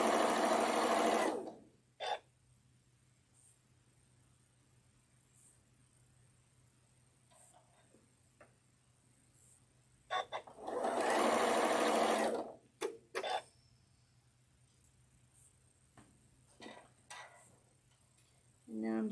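Sewing machine piecing small quilt pieces, two bursts of rapid close stitching separated by long quiet stretches with small handling clicks and faint talk.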